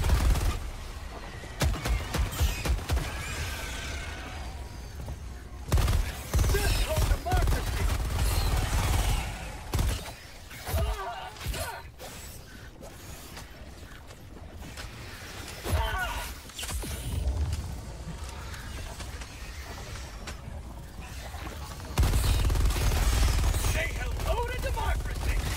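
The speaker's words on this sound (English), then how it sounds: "Is my weapon handling better from the armor while I'm firing?" Stalwart machine gun in Helldivers 2 firing in long sustained bursts with short pauses between, loud and close, mixed with explosions and battle noise while a player talks over it.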